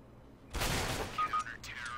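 A single sharp gunshot in the shooter CS:GO bursts out loudly after half a second of quiet, followed by faint metallic clinks and ringing.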